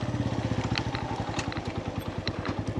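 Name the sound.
motorcycle riding up a rough mountain trail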